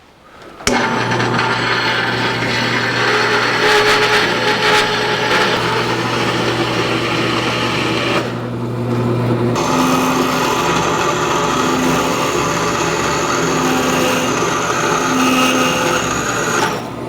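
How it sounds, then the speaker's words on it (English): A bandsaw cuts steel pieces for a 1949 Chevrolet gasser's transmission mount, a steady high whine with a grinding edge that runs on continuously, dips briefly when the blade clears one cut, then resumes. "So let's go to the bandsaw. We'll start cutting out our pieces by cutting the big piece off."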